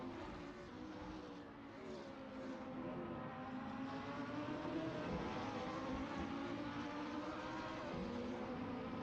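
A GT3 race car engine in a sim racing game at Bathurst, a steady droning roar whose pitch climbs and shifts as the car accelerates, heard alone without commentary.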